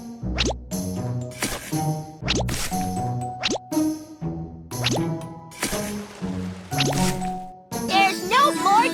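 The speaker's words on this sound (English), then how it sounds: "Drag the shovel to remove the mud." Cartoon shovel scooping mud from a clogged drain in a children's flood-safety game, a series of bouncy plopping, squelchy and boing-like effects repeating in quick rhythm, ending with a brief burst of playful sounds.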